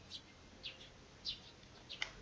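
Short bird chirps from a Steins;Gate video game sound effect, four or five brief high tweets spaced about half a second apart, faint and clear with no talk over them.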